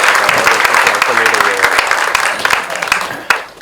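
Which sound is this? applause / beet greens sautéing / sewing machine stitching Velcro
applause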